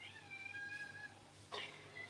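A cat meows plaintively indoors, a thin drawn-out cry followed by a sharper short meow, faint against a quiet room hum.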